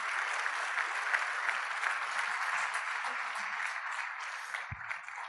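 Church congregation applauding steadily during a worship service, a dense even wash of clapping throughout with a brief low thump near the end.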